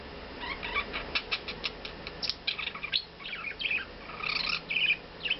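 A budgie chirps and chatters in quick bursts of bright tweets and warbles, close and fairly steady throughout, with no talking.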